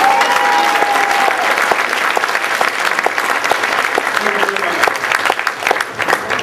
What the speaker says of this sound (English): put your hands together and let's clap